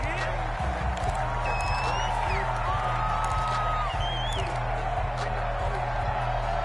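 A stadium crowd roars in a Madden game between the Jaguars and Dolphins in Spain, ahead of a big third down. Steady crowd noise with faint whistles runs beneath continuous play-by-play commentary.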